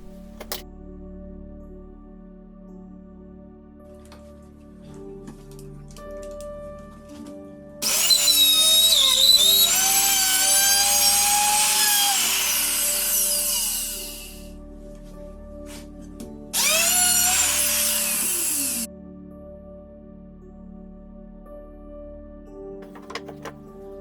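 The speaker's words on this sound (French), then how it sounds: "Une fois les réglages de la défonceuse faits, je fais un test sur un morceau de bois sacrifiable" A wood router making a test cut in a scrap piece of wood, a loud, steady high-pitched whine lasting several seconds, then stopping and returning for a shorter second burst, alone without talk.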